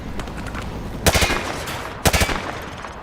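Automatic gunfire at targets in Modern Warfare 2: two loud, rapid bursts about a second apart, each a quick rattling string of shots over a steady low game background hum.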